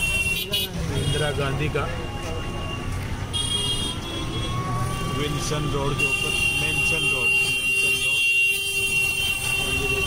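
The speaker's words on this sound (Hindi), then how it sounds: "बाइक वाले बहुत ज़्यादा हॉर्न बजा रहे हैं।" Motorbike horns honking in busy city traffic on Mansion Road in Kanpur, several beeps and toots over a constant roadway drone, while someone talks throughout.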